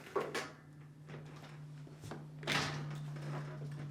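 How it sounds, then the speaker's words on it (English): A Whirlpool-family dishwasher door is opened with a few clunks and rattles over a steady low hum, with a louder clatter partway through. "Now, turn the dishwasher back around and open the door."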